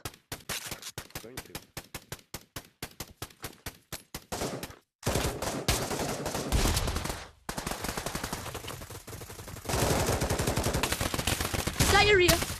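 Rapid bursts of Desert Eagle pistol fire in a VR shooter game, first a string of sharp separate shots, then dense continuous volleys of loud gunfire that fill the rest, with faint voices underneath.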